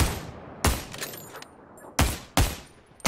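Gunfire rings out in the battle-royale game Ring of Elysium: about five sharp, loud shots come in irregular spacing, each cracking out and quickly fading over a faint background.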